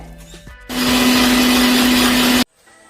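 An electric mixer grinds ginger, garlic, curry leaves and fennel seeds into a paste, a loud, steady whirring drone that starts abruptly, runs for nearly two seconds, then cuts off, with no voices.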